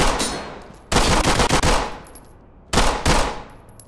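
Gunfire from a tactical police shooter in Ready or Not, aimed at a suspect in a garage, comes as two loud, close bursts of rapid shots, each followed by a decaying echo, with no voices.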